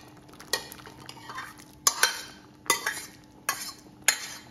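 A spoon stirs cooked rice into sambar in a pot, making soft scraping swishes and about six sharp metallic clinks against the pot at irregular intervals, close and fairly quiet.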